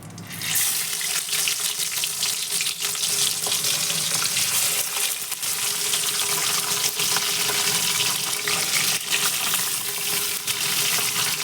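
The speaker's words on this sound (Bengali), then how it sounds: "এই মাছগুলো একটু লাল লাল করে ভাজবো" Khoira fish frying in a pan of hot oil, giving a loud, dense, unbroken hiss and crackle that holds steady throughout with no voices.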